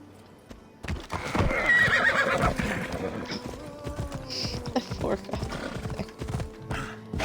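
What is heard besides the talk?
horse whinnying and hooves in Assassin's Creed Odyssey video game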